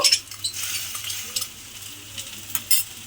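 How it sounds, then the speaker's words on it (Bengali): Masoor lentils and garlic frying in a hot pan, giving a close soft sizzle with a few quick stirring scrapes and light utensil clinks over about three seconds. "মুসুর ডালটা দিয়ে আবারও একটু নেড়েচেড়ে একটু ভেজে নেব।"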